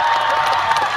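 At a Dream Concert stage show, the audience bursts into brief applause mixed with cheers and shouts, a loud, crowded wash of clapping lasting about a second.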